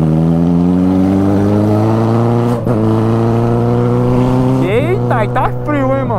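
A Yamaha XJ6 motorcycle engine drones steadily at a constant pitch, then revs up in rising, wavering sweeps near the end, on a cold, rainy day.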